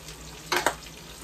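Stir-frying vegetables in a crowded pan for pancit guisado, with cooked noodles and onion already in, gives two short, loud sizzling scrapes over a soft steady background hiss.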